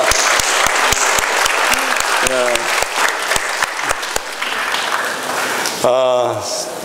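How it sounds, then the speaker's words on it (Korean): A church congregation applauds, a dense wash of clapping with a few sharp, near hand claps standing out, while a voice speaks over it and a tone sounds near the end. "박수 한번 주실래요?"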